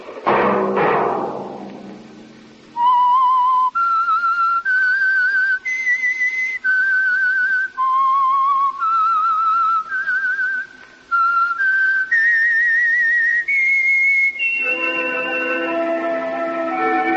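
The whistled theme of The Whistler radio program, a clear solo melody of sustained notes with brief gaps between phrases, close and prominent, ending as an orchestral chord swells in beneath the final note.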